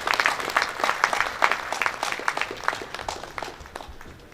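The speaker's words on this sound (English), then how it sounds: "Please let's give him another bountiful round of applause." A conference audience at a builders' association opening ceremony claps in steady applause that gradually fades away, with no speech over it.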